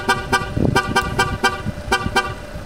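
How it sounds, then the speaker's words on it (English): MG5 car plays a warning chime tune while being locked with the key left inside: a repeating sequence of bright, ringing melodic tones at a steady rhythm, fairly close, with one soft thump partway through. "you can play a ballad when the car is on, you've left the key inside and you're trying to lock the car"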